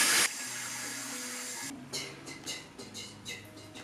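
A bathroom tap runs in a steady hiss while cleanser is rinsed from a face, then cuts off to leave soft intermittent splashes and dribbles. There is no talking.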